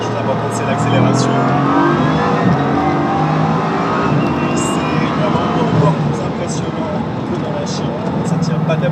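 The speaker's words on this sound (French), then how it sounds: "dans la Chiron Pure Sport, même si elle est faite pour les virages, la première chose importante c'est l'accélération" A Bugatti Chiron Pure Sport accelerates hard, a loud sustained engine roar with rising revs that fills the whole stretch, up close, with a voice talking over it.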